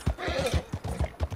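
A horse in the video game Red Dead Online whinnies close by over a steady clip-clop of hooves, the footfalls landing in an even rhythm of about five quick beats per second.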